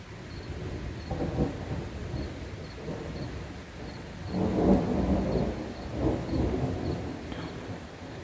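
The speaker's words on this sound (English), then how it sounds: "I am sitting in the middle of the thunderstorm on my front porch" Thunder rolling during a rainy thunderstorm heard from a front porch, several low rumbles swelling and fading over steady rain hiss, moderately distant.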